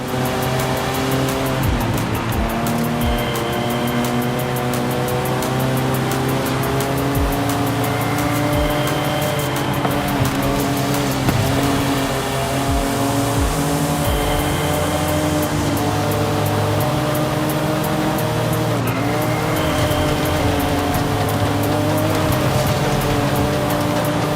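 A Nissan Z races in Forza Horizon 5, its engine droning loud and continuous with rising and falling revs through gear changes, tire squeal and road noise layered underneath, no talking.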